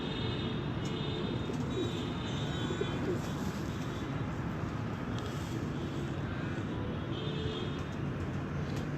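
Fighter pigeons on a rooftop give soft, low cooing that blends into a dense, steady outdoor background, with distant traffic and no clear talk.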